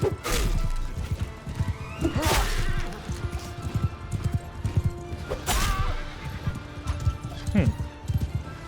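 Cavalry horses in a video game battle, several neighs and whinnies over clip-clopping hooves, crashes and whip-like cracks, with someone talking over the commotion.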